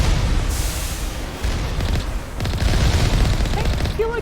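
Sustained, loud bursts of gunfire and booming blasts from the Mass Effect game roll on without pause, with a voice talking over the noise.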